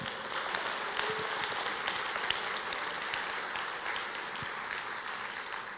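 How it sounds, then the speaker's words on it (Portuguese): A church congregation applauds together, a dense, steady wash of many hands clapping that holds evenly for several seconds at close range. "Você pode aplaudir o Senhor?"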